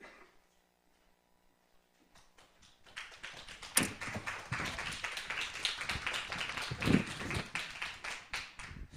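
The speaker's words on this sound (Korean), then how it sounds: "작년에 이어 두 번째로 박수를 받게 됩니다" A church congregation breaks into applause after near silence, with scattered claps building quickly into steady, moderately loud clapping from many hands that carries on to the end.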